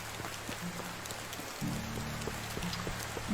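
Rain patters steadily on surfaces in the medieval survival game Medieval Dynasty, a continuous soft hiss with scattered drops, under a low hum and faint tonal game sounds.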